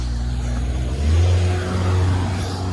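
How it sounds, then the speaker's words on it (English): A car passes nearby outdoors, its engine hum rising and swelling for a moment and then holding a low steady rumble, fairly loud with no voices over it. "car's going by"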